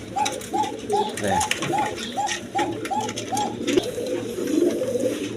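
Pigeons of several breeds, a pair among birds kept for sale, coo in a steady run of about ten soft, rounded calls at an even pace, close by over a low hum of background noise, with no one speaking.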